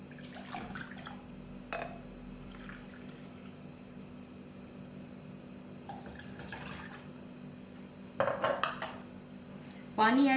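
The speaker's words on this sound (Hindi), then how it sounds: "इसमें मुझे 2 कप पानी ऐड करना है।" Water is poured into a pan on a lit stove to make green immunity tea: quiet kitchen clinks and drips at first, then louder splashing pours near the end, close by.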